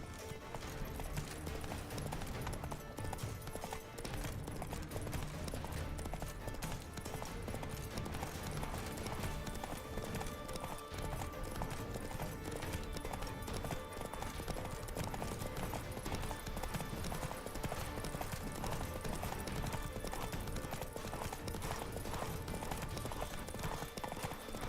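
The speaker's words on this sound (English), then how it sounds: "Run, Roach" A horse galloping in the video game The Witcher 3, with a fast, steady clip-clop of hooves that continues throughout, loud and close, occasionally joined by a voice.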